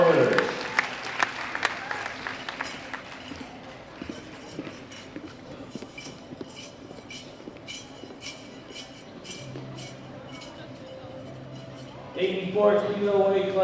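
Audience clapping for the winners at the 2017 World Classic Powerlifting Championships in Belarus, a loud burst at the start that thins into scattered claps while background chatter and clinks carry on, then a swell of sound near the end.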